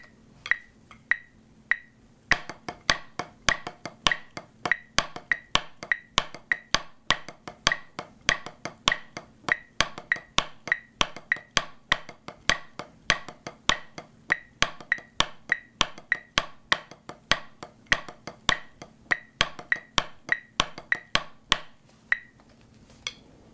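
Crisp drum triplets displaced to start and end on upbeats play a steady, syncopated pattern of quick groupings for about twenty seconds, fairly quiet and dry, with no talking.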